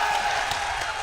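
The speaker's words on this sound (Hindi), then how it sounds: "जरा ताली बजाइए, ताली बजाइए" Audience applause at a Hindi comedy poetry gathering in Baraut, a dense, even wash of clapping that holds steady for about a second.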